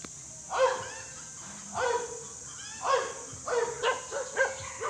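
A big dog barks in several spaced bursts, the last few coming quicker, over a faint steady high-pitched hum.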